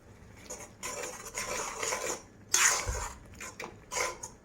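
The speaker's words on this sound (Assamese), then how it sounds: "বাটাৰ দি লৰাই দিছোঁ।" Spoon scraping and clinking against a pan while butter is stirred into egg gravy, several irregular close knocks and scrapes with a sharper clank near the middle, no talking.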